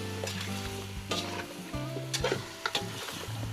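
Native chicken arroz caldo, seasoned with fish sauce, sizzles in a hot pan while being stirred, with repeated scraping and clattering strokes of the utensil over a steady frying hiss.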